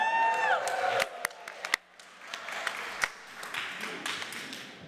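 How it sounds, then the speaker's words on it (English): An audience at a church service claps in a light, scattered round of applause with a few louder individual claps. Faint voices and a brief tone sound at the start. "Let's see if this one gets an applause."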